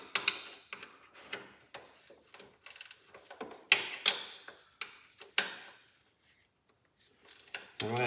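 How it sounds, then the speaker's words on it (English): Wrench ratcheting out 9/16 steering box bolts underneath a Cub Cadet Cyclops tractor, with close, sharp irregular clicks and clanks separated by quiet gaps. "I'm gonna take the bolts right out."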